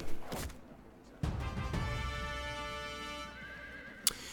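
Horses of light horse archer cavalry in the Field of Glory strategy game whinny loudly, with a thud of hooves and a sharp knock near the end.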